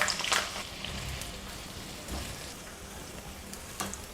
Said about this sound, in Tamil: 10 மினிட்ஸ் இதை வந்து நீங்கள் மீடியம் ஹையில் வச்சுட்டு இதை வறுத்தேன்னா அழகாக வறுப்பட்டுடும்.